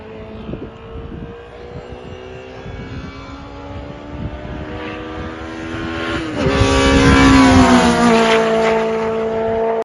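A loud Honda VTEC engine revs steadily higher, its pitch climbing into a sharp scream toward 8,000 RPM before easing off slightly, with no voices.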